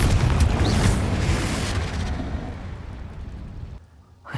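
A Confringo fire spell explosion in Hogwarts Legacy: a loud, broad boom that rumbles and slowly fades over a few seconds before dropping almost to silence.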